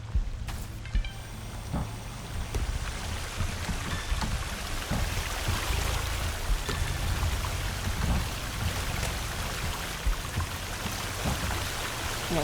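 Waterfall in the survival game Sons of the Forest, a steady, full rushing roar of falling water that fills the whole stretch without pause, fairly loud and close, with no voices over it.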